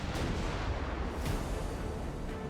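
Heavy battleship cannon fire in the naval warfare game Ultimate Admiral Dreadnoughts, a dense continuous rumble of distant booms and low roaring with no distinct individual shots.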